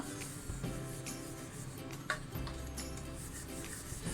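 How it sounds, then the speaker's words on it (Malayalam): Steady, close rubbing and scraping as the side of a vessel is scrubbed clean. The coarse friction continues without a break, with a faint low hum underneath and one small knock partway through. "ഈ സൈഡിൽ ഇങ്ങനെ ഉരച്ചു കൊടുക്കുക."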